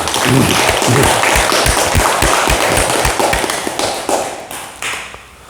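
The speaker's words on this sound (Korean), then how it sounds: "큰 박수 부탁드립니다." Audience applause at a Korean Buddhist morning Dharma talk, a dense roar of clapping with sharp individual claps standing out, loud and steady before thinning out toward the end.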